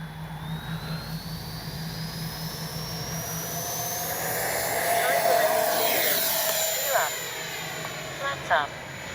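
An RC FMS Avanti S 70mm model jet spools up for takeoff with flaps down, its rising whine climbing steadily over a constant engine roar, fairly close, with a couple of short sharp clicks near the end.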